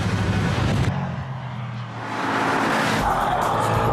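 A BMW X5 4x4 driving hard on a test track, with loud, continuous engine roar and road noise that dips briefly and then swells again as it powers on.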